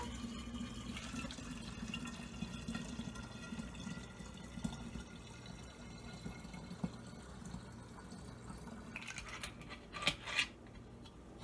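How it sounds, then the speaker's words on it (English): Homemade fruit wine pours from a container in a steady, gentle liquid trickle, with a few soft clinks and a brief louder splash near the end. No talking. "I should be able to pour the rest of this without too much problem."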